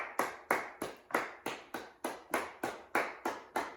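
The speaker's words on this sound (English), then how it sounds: "Clapping is going to keep you going." Steady hand clapping keeps time for a beginner-intermediate foil fencing footwork drill, about a dozen sharp claps at an even, brisk pace, fairly close and with nothing else over them.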